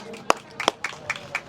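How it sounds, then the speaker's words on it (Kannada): Audience at a wedding dance gathering clapping, a handful of sharp, uneven claps spaced a few tenths of a second apart, moderately close but soft, without a steady rhythm. "ಜೋರಾಗಿ ಚಪ್ಪಾಳೆ ಹೊಡೀರಿ, ನೋಡೋಣ ಹೆಂಗ್ ಹೊಡಿತಾರೆ."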